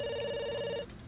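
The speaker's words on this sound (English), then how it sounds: "The phone's ringing, but it's just going to have to ring until she's eaten." A telephone rings in The Sims 2, a steady electronic ringing tone that carries on for most of a second and then cuts off, with no talking.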